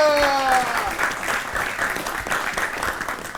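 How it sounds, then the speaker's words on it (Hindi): A studio audience at an educational show breaks into loud, steady applause lasting several seconds, briefly overlapped at the start by a tonal musical sting. "हो जाए एक बार फिर से जोरदार तालियां"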